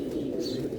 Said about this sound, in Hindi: बड़ा शानदार कबूतर